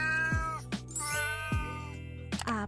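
A cat meows several times in clear, close, separate calls with short pauses between them, and no talk is heard.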